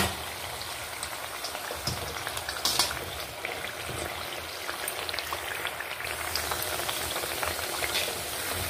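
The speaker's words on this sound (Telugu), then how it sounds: "ఇలాగే అన్నీ చేసి మీడియం ఫ్లేమ్లో పెట్టుకొని కాల్చుకోవాలి, అప్పుడే లోపల వరకు వేగుతాయి." Bottle gourd and rice flour fritters (sorakaya garelu) frying in oil over a medium flame, a steady dense crackle and bubbling hiss with a few sharper pops.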